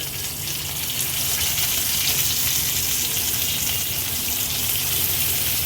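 Stuffed brinjals filled with baby shrimp frying in oil in a pan, a steady, loud, hissing sizzle that holds without a break, close up and with no talk.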